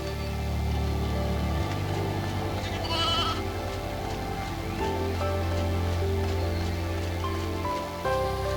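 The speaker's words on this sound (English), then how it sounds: "The sheep wandering these plains are so fluffy" Sheep bleating on open plains in Final Fantasy XIII-2, a few short bleats over a steady layer of game music and ambience.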